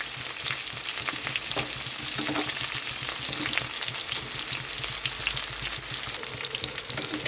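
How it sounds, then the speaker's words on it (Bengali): Cauliflower florets fry in a covered pan over high gas, with a dense, continuous crackling sizzle that stays loud and even from start to finish and no voices. "বাড়ানো অবস্থায় চাপা দিয়ে রাখতে হবে, তাহলে কপিটা তাড়াতাড়ি ভাজা হয়ে যাবে।"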